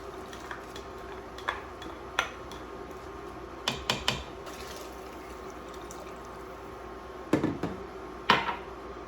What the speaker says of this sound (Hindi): बस इन सब्जियों को अच्छे से हम मिक्स कर देंगे।